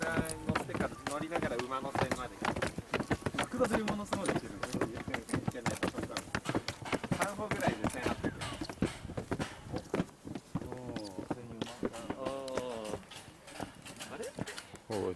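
Rhythmic hoof clip-clops of a horse-drawn carriage at the Tottori Sand Dunes in Japan sound steadily throughout, mixed with people talking and busy outdoor crowd noise.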